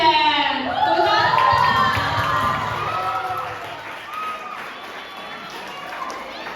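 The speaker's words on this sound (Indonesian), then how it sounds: "Tepuk tangan." An audience at an art event welcomes a modern dance group with loud, sustained cheering and high shouts from a large crowd, fading slightly over several seconds.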